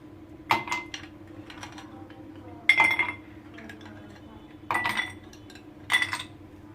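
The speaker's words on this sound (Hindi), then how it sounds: "सबसे पहले हम ग्लास में डालेंगे आइस क्यूब्स।" Ice cubes dropped into a glass while making lychee soda water, four separate clattering clinks spaced a second or so apart, fairly close, with a low steady hum underneath and no talking.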